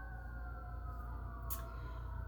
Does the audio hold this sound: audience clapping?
no